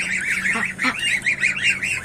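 Geese honk continuously in a noisy flock, their nasal calls overlapping with a low hum underneath.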